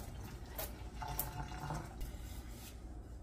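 Hands being washed under running tap water with soap and scrubbing, a soft continuous splash and trickle with a few brief louder gushes, fairly close and quiet.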